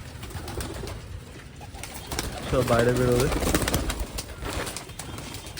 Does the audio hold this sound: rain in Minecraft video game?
no